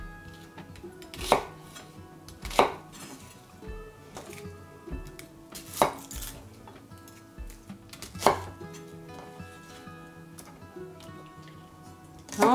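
A kitchen knife cuts an onion into large chunks on a cutting board, giving five or six distinct thunks spaced a couple of seconds apart, close and fairly quiet, with small handling noises between them.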